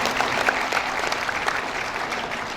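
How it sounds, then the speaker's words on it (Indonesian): An audience claps together at a university graduation ceremony, a brief, steady burst of applause that fills the hall without pause. "Saya mohon kasih tepuk tangan"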